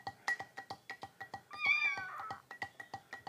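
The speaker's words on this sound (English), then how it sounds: "While the kittens scream at me relentlessly." Orphan kittens being fed warmed goat milk let out a drawn, whining meow in the middle, set against a steady run of quick, regular clicking and tapping close by.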